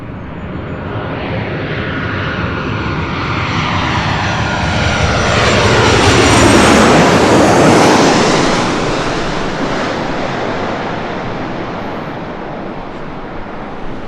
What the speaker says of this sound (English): Next arrival, Alaska Airlines Flight 1220 coming in from Seattle. It's a 737-900 ER.